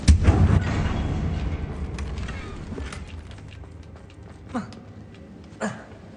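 A Confringo fire spell goes off in Hogwarts Legacy with a heavy, booming burst at the start that fades into rumble, followed by two smaller blasts.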